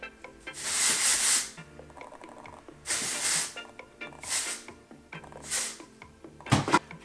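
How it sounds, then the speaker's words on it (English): Several short hissing bursts of dry oil spray on hair come in separate puffs, some longer and some quick, with quiet rustling between them. "So basically you just spray this on your hair from like here down"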